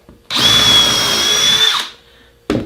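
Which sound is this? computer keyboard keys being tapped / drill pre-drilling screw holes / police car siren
drill pre-drilling screw holes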